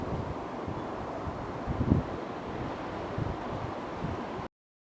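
Strong gusty wind on a day with gusts near 40 mph, roaring steadily as broadband noise with a buffeting swell around the middle, then cutting off abruptly just before the end.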